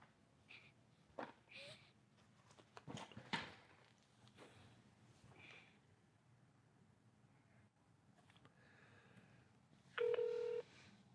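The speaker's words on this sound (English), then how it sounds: "Now let me pick up the phone. I'm going to walk around a few steps and try to dial again." Touch-tone phone keypad dialing near the end, a short loud burst of DTMF tones after quiet room noise, footsteps and a few handling knocks in a call center setting.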